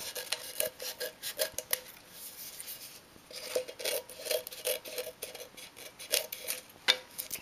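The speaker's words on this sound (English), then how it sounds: "you can just take X-Actos or whatnot, or scissors, cut the excess off" Scissors or a craft knife trimming excess paper from a handmade cup-shaped pencil holder, giving a run of close, crisp snips and scraping rasps in an irregular rhythm, with no talking.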